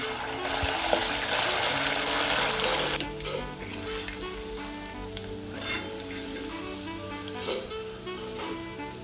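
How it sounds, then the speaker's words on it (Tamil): Chicken 65 pieces sizzle and crackle steadily in hot oil, a dense close frying hiss that is loud for the first three seconds and then settles to a softer bubbling with light stirring and clinks. "சூப்பரா நம்ம சிக்கன் ஃப்ரை ஆகிக்கிட்டு இருக்கு"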